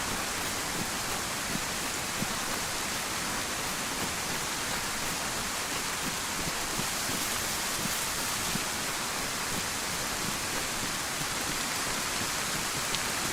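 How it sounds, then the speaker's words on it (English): Steady, dense hiss of heavy rain falling without pause in the survival game DayZ, a continuous wash of drops with no voices over it. "The rain is doing my head in."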